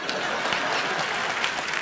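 Studio audience applause at a Hindi comedy talk show with Kapil Sharma, a dense, steady burst of many hands clapping, loud and close, sustained throughout without pause.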